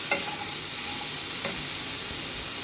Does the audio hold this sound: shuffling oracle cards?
no